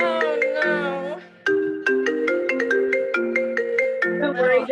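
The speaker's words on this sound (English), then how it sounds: "someone's calling me that's showing up on the computer" A phone ringtone from an incoming call sounds during an online osteoarthritis exercise class on Zoom, a melodic repeating tune of bright tones that plays loudly and alone for several seconds.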